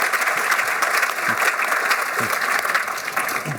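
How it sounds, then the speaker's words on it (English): An audience at a risk and ESG summit applauds a panel, with continuous, even clapping throughout and no talk over it. "If you could give my panelists here a round of applause, I'd greatly appreciate it"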